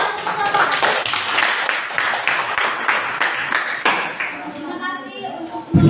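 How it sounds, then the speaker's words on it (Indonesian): A group of students in a classroom clapping together, a brief burst of hand claps at close range mixed with voices and chatter, fading toward the end. "Tepuk tangan bersama."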